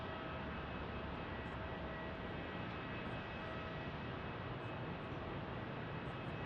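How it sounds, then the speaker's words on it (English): An Air France airliner comes in at Phoenix Sky Harbor airport, a faint, steady distant jet rumble with a thin high whine and no talk. "Air France coming in."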